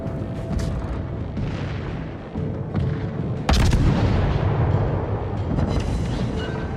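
Naval guns fire in World of Warships during a German Tier I cruiser Hermelin battle, with several heavy booms spaced a few seconds apart. One close, loud blast stands out midway over a rumbling background.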